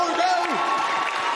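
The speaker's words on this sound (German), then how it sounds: "Einmal Applaus für Red Bull." Indoor crowd applauding a sponsor at a padel tournament hall, steady clapping throughout with voices and cheering mixed in over it.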